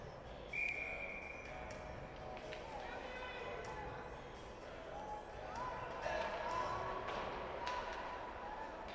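A referee's whistle gives one short blast at a U13 AA youth ice hockey game between Lewisville Lightning and Charlottetown Islanders, sounding early over rink noise while a commentator talks throughout.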